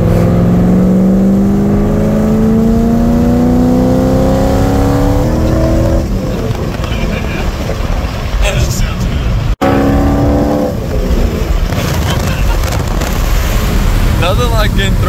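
A car accelerates hard on a road, its engine roaring loud and near as the revs climb through rising gear sweeps, dropping and climbing again, while people talk and laugh inside over the noise.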